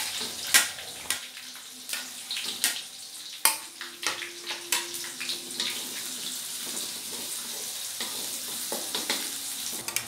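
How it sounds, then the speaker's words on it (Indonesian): Onion goes into a pan with wilted garlic, lemongrass and bay leaves, frying with a soft sizzle while a utensil stirs and scrapes in sharp, irregular clacks close by. "Ini udah layu, sekarang aku masukkan bawang bombay."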